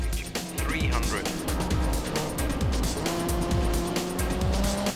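Rally cars race in a video game, with engines revving, tires squealing and skidding in repeated surges. A voice talks over the engine noise throughout.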